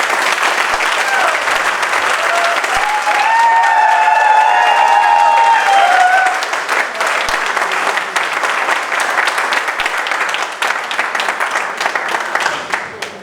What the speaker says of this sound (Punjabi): ਪਲੀਜ਼ ਇੱਕ ਵਾਰੀ ਜ਼ੋਰ ਨਾਲ ਤਾੜੀ ਮਾਰ ਦਿਓ ਸਾਡੇ ਐਮਡੀ ਸਰ ਲਈ